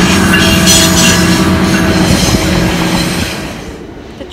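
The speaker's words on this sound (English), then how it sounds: "Oh, train is coming. You guys hear the train? Here comes the train." A train passing by near a museum, a loud close roar of rolling wheels and rumbling cars with some squealing, steady throughout and fading slightly toward the end, with no talk.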